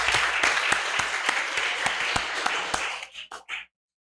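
An audience at a youth event gives a loud, dense round of applause that keeps up steadily for about three seconds, then breaks into a few scattered final claps before falling silent.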